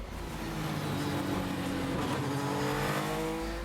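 Sébastien Loeb's race car at Pikes Peak in 2013 holds 247 km/h on the rev limiter, making a loud, sustained high engine drone with steady harmonic tones from the cockpit.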